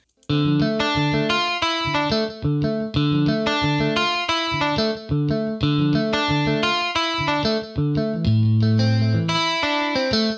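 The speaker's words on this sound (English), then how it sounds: "That's what distortion does." Heavily distorted music with a dense, saturated tone, playing continuously at steady loudness with a repeating rhythmic pattern and no voices.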